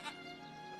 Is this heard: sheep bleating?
yes